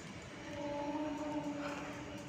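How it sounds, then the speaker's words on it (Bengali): Heard from a rooftop, a train rumbles past steadily, with a low continuous roar and faint tonal hums running throughout. "তোমরা ট্রেনের আওয়াজ নিশ্চয়ই শুনতে পাচ্ছ।"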